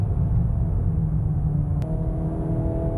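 Steady low engine rumble from a 2023 VW Golf R with DSG gearbox, heard from inside the cabin while driving, fairly subdued and continuous with a slight shift in tone partway through.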